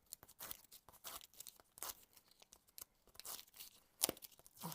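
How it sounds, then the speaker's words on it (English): Backing is peeled off foam adhesive pads for card making, giving close, quiet bursts of tearing and crinkling in an irregular rhythm, with one sharp crackle near the end and no talking. "And then we're just going to peel the backs"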